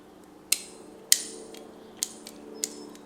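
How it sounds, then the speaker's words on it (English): A 3/32 drill bit worked by hand inside the flint tube of an Ibelo Monopol automatic petrol lighter, giving four sharp, close metallic clicks and scrapes spaced about half a second apart over a faint steady hum. "3/32 drill bit and just work that by hand."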